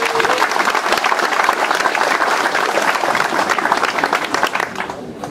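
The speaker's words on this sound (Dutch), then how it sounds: "Ik wil graag een applaus voor Henk Balk." Lively applause from an audience at a 2015 Dutch community event in Losser, crisp rapid clapping that stays loud and steady, then thins and fades toward the end.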